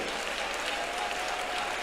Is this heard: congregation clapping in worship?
yes